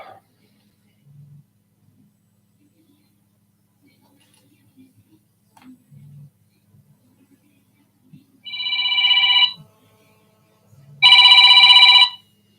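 A telephone rings twice in the second half, two loud, bright one-second bursts separated by a short pause, following a near-silent stretch with a few faint low thumps.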